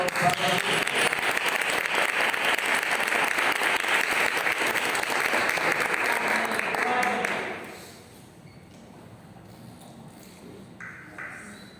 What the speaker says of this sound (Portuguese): Recebemos o homem de Deus com uma salva de palmas bem forte